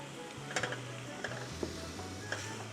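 A Korean side dish with lots of sesame seeds fries in a pan, a soft steady sizzle with occasional light stirring clicks and scrapes, close but fairly quiet, no talking.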